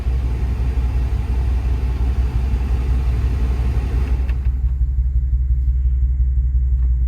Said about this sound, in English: Now that the blower motor has been replaced, I'm going to turn the fan on the first setting